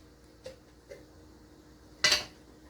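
A big spoon knocks against a jar of queso in a home kitchen: two soft taps, then one sharper, louder metallic clink near the end. No one speaks.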